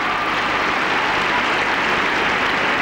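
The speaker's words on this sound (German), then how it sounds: "Applaus der Zuschauer vor Ort in Philadelphia im Civic Center." Steady, dense applause from a large crowd of tennis spectators at an indoor match in the Philadelphia Civic Center, continuous and even throughout with no voices standing out.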